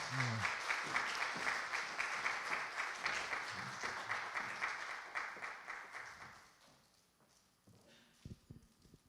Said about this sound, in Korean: 박수로 환영해 주시겠어요?